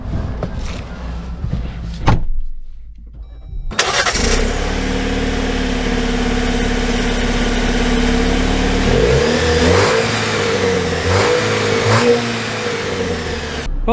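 A 2024 Jeep Wrangler Rubicon fires up after a door thunk, its engine revving loud and close, then settling into a steady drone as it drives off, with a couple of gear-change swells near the end.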